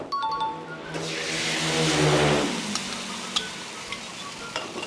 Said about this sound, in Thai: อ่าเราก็เคี่ยวซอสสักหน่อยนะ ให้มันแบบติ๊กขึ้น